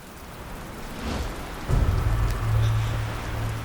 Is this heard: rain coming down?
yes